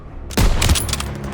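Gunfire erupts in a Call of Duty battle, a sudden loud burst of overlapping shots with rapid follow-up rounds trailing off into echoing rattles.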